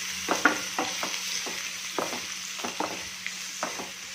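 Finely chopped onion frying in a pan under a steady sizzle, with repeated soft scraping strokes of a spoon stirring at an unhurried pace.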